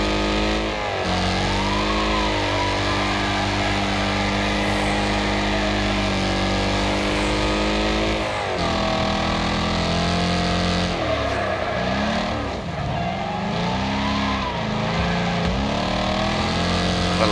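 Race cars in the Wreckfest video game roar around an oval arena, a loud continuous engine drone with rising and falling revs, gear shifts and overlapping cars, no voices.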